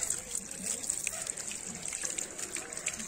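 Tap water trickling and splashing for hand washing, a steady faint running flow with light splashes throughout, with people talking nearby.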